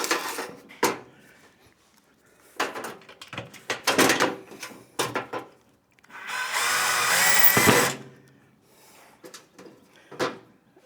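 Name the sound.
Bosch drill running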